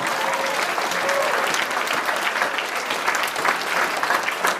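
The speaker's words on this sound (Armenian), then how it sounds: "մի հատ էլ բարձր ծափ անենք մեր սիրելի ուսուցիչների" Loud applause for teachers from a village concert audience at a youth folk-instrument orchestra performance, sustained and dense, with a few brief voices underneath.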